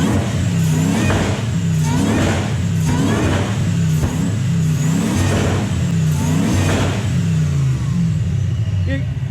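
A supercharged Toyota 1UZ V8 in a 2WD Hilux, with a Harrop HTV1900 supercharger and Link G4+ Storm ECU, revs hard in repeated rising bursts, roughly every second, loud and close, with a throaty whine between pulls.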